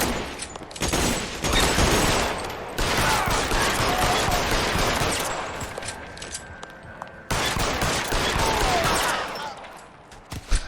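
A gunfire shootout plays as sustained, loud bursts of rapid shots that fill the whole stretch with brief breaks, dense and continuous rather than single reports.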